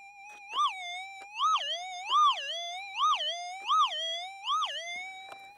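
A metal detector sounds a sharp warbling signal over a gold target in the Nevada desert, about six rising-and-falling tones repeating in a steady rhythm, loud and close with no talk over it.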